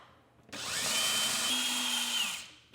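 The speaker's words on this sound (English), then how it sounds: "Next, remove these 2 Phillips screws." A power screwdriver backs Phillips screws out of a Samsung freezer panel, one close, steady whir of about two seconds that starts sharply, holds a constant pitch and stops abruptly.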